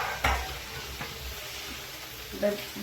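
Leeks sautéing in a pan with vegetables for prawn noodles: a low, steady sizzle with a few soft spatula knocks and scrapes, fairly quiet and close.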